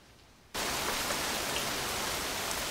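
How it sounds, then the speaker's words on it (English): Pouring rain in a film scene cuts in abruptly after a quiet moment, then holds as a loud, dense, steady hiss of downpour. "the diegetic sound of rain suddenly becomes louder"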